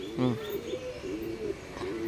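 Black Andhra pigeons coo softly nearby, a low throaty call near the start and another toward the end, over a quiet background.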